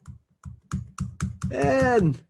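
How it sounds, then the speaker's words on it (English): Keys on a computer keyboard with a faulty N key are tapped in a series of sharp, close clicks, roughly evenly spaced, before a voice rises over the last few strokes. "I gotta change my keyboard."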